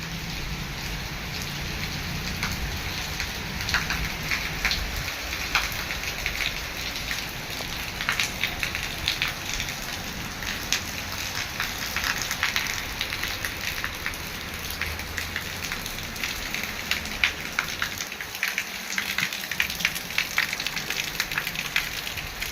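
Very heavy rain pours down steadily in Porbandar amid strong wind, a dense, unbroken hiss of drops on surfaces close around, with no voices.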